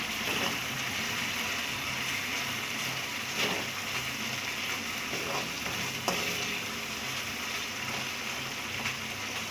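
Boiled mashed potatoes are stirred into a pan of sizzling gravy for a black chickpea curry, a steady frying hiss running throughout with a few clinks and scrapes of the spoon.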